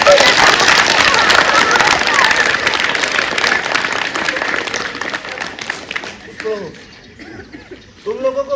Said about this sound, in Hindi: जरा ताली बजाओ।